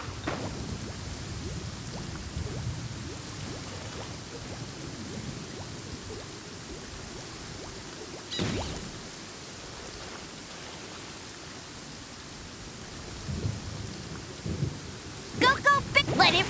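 Rain pours steadily through a thunderstorm in the video game Genshin Impact, with a loud thunder crack near the middle and more sharp bursts near the end, a broad wash of noise throughout.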